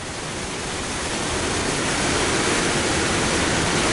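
Water from the Oahe Dam tunnels pours with great force into the stilling basin during Missouri River flooding, a loud, steady, broadband roar heard close up and alone.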